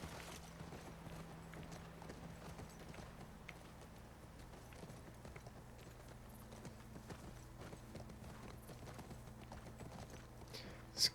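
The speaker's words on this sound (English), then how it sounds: "Riding around on the horse and the way the grass looks and stuff." Horse hooves clip-clop steadily while riding across grassy terrain in the video game The Last of Us Part II, a continuous even gait heard alone over a low ambient hum, with a brief sharp sound at the very end.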